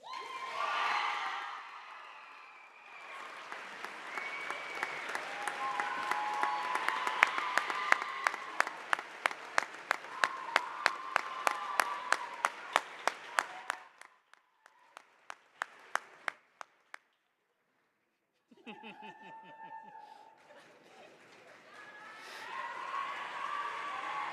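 An audience at a school honors day breaks into sustained applause, a dense wash of clapping that swells, thins into scattered claps, pauses, then returns.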